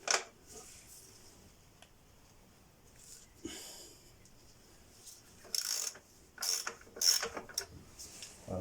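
A ratchet on a 21 mm socket works loose an engine bolt on a Peugeot/Citroën 1.6 HDI turbo diesel car, giving quiet, close clicks and sharper bursts of ratcheting toward the end, with faint rustling between.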